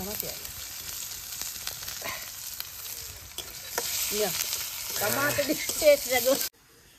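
Onion and garlic sizzle in hot oil as a tempering (chhunk) for meat dalma, a steady crackling fry with stirring noises that grows busier and louder toward the end before cutting off.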